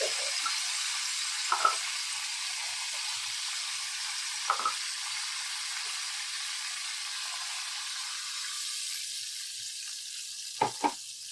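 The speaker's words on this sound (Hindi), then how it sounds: "सारे मसाले मैंने हरी मिर्चें मैं ऐसे ही डाल रही हूँ।" Spices and green chilies tossed into hot oil for a mutton pulao, giving a steady, moderate sizzle with a few sharper pops and crackles through the stretch, with no voices.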